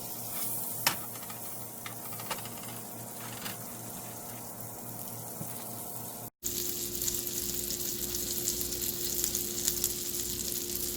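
Fish fries in butter in a pan, giving a continuous, fairly loud sizzle with occasional crackles. A brief dropout midway is followed by a steadier, brighter hiss.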